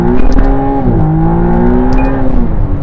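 A 2023 McLaren Artura with its hybrid V6 pulls hard under acceleration, a loud close-up engine drone whose pitch climbs, dips at a shift and climbs again over about three seconds.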